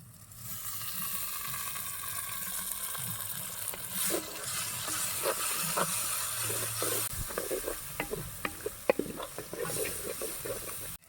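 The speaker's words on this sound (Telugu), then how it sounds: "అన్నగా దొరుకున్న ఎర్రటి టమాటో ముక్కలు అయితే వేసుకుందాం" Red tomato pieces drop into a sizzling tempering pan with curry leaves in a village kitchen, a steady close hiss that rises as they go in, followed by sharp spoon clatters and crackles toward the end.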